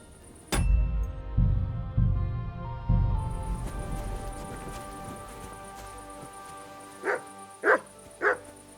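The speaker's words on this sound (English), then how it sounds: "Get out of here, mutt! No one wants to hear your barking!" A dog barks three times in Kingdom Come Deliverance II, sharp mid-distance barks closing out a stretch of dull thumps, hoofbeat-like clatter and a steady high tone from the game world.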